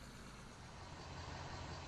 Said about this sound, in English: Oh, look at that. It is a Wood River truck.